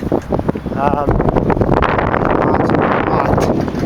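Strong wind buffets the microphone in loud, continuous gusts, with a brief whistling tone early on, outdoors beside a 1978 Cessna R182 light aircraft.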